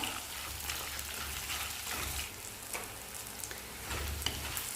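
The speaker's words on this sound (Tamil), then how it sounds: "பூண்டு வெங்காயமும் நல்லா வதங்கி வரட்டும்" Whole peeled garlic cloves and whole peeled onions sauté in hot oil in a pan for a South Indian sundakkai vathal kuzhambu, giving a continuous close sizzle with faint stirring clicks and no speech.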